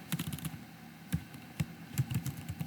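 Rapid typing on a computer keyboard, close and crisp, with irregular bursts of key clicks and a few louder strikes, no talking.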